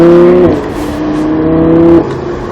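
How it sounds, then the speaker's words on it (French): Lamborghini accelerating hard on the Montlhéry racing circuit, a loud close engine note climbing in pitch, dropping briefly at a gear change, then rising again before easing off, with no talking over it. "Tu peux accélérer. Allez, accélère. Continue."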